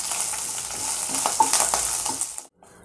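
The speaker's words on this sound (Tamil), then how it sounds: "பாருங்கள், கறிவேப்பிலாம் நல்லா வதங்கிச்சுங்க" Green chillies and curry leaves sauté in a pan for a chutney, giving a close, loud crackling sizzle with stirring scrapes that stops abruptly near the end, leaving a quieter hiss.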